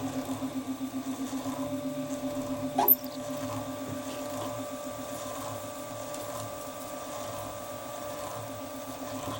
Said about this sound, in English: I'm going to power the reamer down through as well